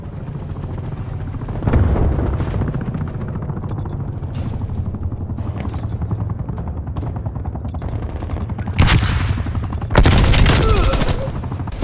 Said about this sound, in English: Woods requesting attack chopper deployment.